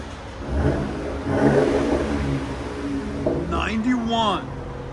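A 2022 Dodge Durango GT with a 3.6L V6 and resonator delete revs up in a couple of swelling bursts close by, with people talking over it.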